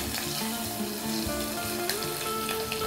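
Mustard seeds and green chillies spluttering and sizzling in hot oil for an Andhra dish, a continuous close crackle with small pops and faint stirring, no talk.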